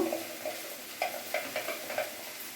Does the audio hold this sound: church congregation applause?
no